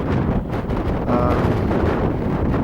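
Cold wind buffets a microphone on a freezing mountain summit beside a sheltering rock, a steady loud roar of gusts filling the whole clip with no speech.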